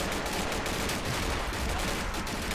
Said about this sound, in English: it's like shooting a machine gun. Even though it's just an automatic rifle.